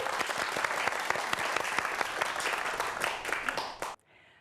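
Studio audience applause at a Korean science-and-magic TV show, dense and steady clapping for about four seconds, then cutting off abruptly into near silence.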